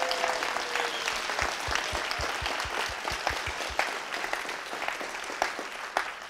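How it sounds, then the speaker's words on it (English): Sustained applause from a conference audience at Skepticon 7 in Springfield, Missouri, a dense, steady roar of many hands clapping close by for the whole stretch, with a few sharper claps near the end. "let's give a big round of applause to the organizers for putting this whole thing together."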